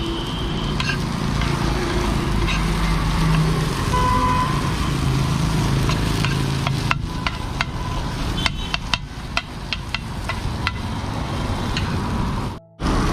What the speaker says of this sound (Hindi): ये मसाला अलग से फ्राई हो रहा बर्गर का